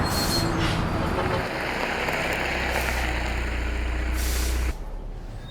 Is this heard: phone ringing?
no